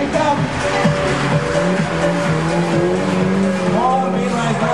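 Drift cars lapping a circuit at a Latvian Drift Series event, engines revving loudly and continuously with squealing tires, while a commentator talks over the noise.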